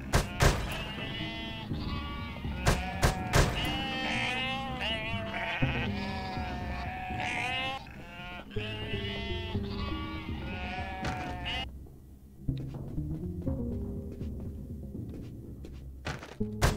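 Sheep in the video game UnMetal bleat repeatedly in wavering cries that come close together, mixed with sharp thunks and clicks from the game.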